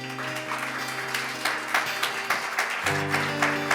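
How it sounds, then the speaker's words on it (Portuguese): A church congregation applauds during a Sunday service, rapid claps with sustained musical tones underneath, moderately loud and steady across the short stretch. "Você pode aplaudir o Senhor?"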